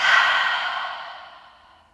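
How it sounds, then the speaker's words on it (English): A long, steady exhale during a guided yoga breathing exercise, a soft close airy rush that starts full and slowly fades away over about two seconds, heard on its own. "Exhale, release."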